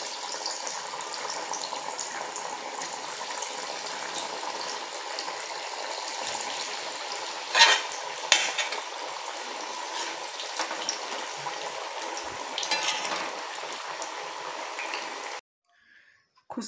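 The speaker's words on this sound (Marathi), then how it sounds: "आता याला तेलामध्ये तळून घ्यायचे आहे" Aluvadi, rolled colocasia leaf rolls, frying in hot oil with a steady, moderately loud bubbling sizzle that holds evenly, a couple of brief clinks partway through, then drops to near silence at the end.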